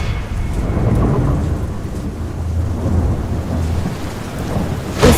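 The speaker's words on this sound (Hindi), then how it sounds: "उसी रात मूसलाधार बारिश के बीच" Heavy rain pours steadily while deep thunder rumbles through it, with a sharper crack of thunder right at the end.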